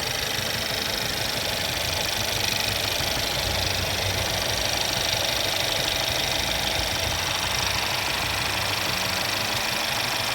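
A Mercedes-Benz C180 W205 engine idles steadily and close by, with a fast, even fuel injector ticking running through its hum; no voices.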